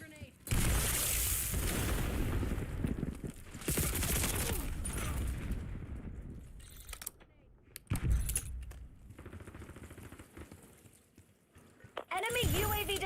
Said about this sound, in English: Inbound grenade.